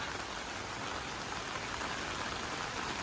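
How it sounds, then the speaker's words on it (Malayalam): Steady rain falls at the start of the Karkidakam monsoon month, a dense, even hiss that holds without a break and without any voices. "കർക്കിടമാസം ഒന്നേന്ന് തുടങ്ങിയപ്പം മഴ താർത്തു"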